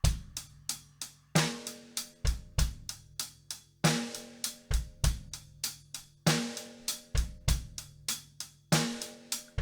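A drum kit plays a steady 16th-note groove with an extra bass drum hit on the last beat, repeated cleanly in loops with crisp hi-hat, kick and snare.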